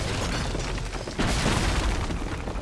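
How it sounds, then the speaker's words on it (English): Dense, rumbling booms of video game explosions in Uncharted: Drake's Fortune fill the space, a steady wash of low blasts with one heavier burst partway through, no voices. "Oh, explosions!"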